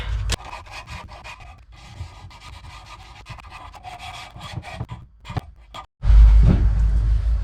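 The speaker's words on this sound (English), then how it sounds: "take some sandpaper and start sanding until they are smooth and round" Rhythmic rasping strokes of sandpaper rubbing against a wooden wakebait fishing lure, repeated steadily and close up, ending with a louder, rougher burst of scraping.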